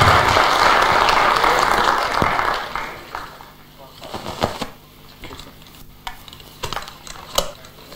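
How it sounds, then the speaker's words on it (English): An audience at a Python programming talk applauds in a dense burst of clapping that fills the first couple of seconds, then thins out into scattered claps and faint sounds from the room. "can we have a round of applause for both of them?"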